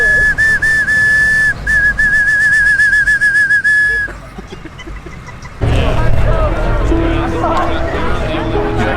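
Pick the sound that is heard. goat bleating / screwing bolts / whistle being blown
whistle being blown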